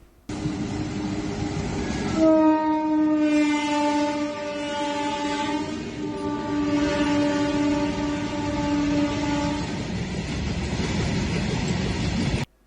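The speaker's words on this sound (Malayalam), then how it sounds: "മുന്നൂറ്റി നാൽപ്പത്തിയഞ്ച് വാഗണുകളുള്ള രുദ്രാസ്ത്രയ്ക്ക് ഏഴ് എഞ്ചിനുകളാണ് കരുത്തേകുന്നത്" Rudrastra, a very long East Central Railway freight train built from six joined BOXN rakes, with seven engines and 345 wagons, passes loudly with a sustained blaring horn over a continuous heavy rolling rumble.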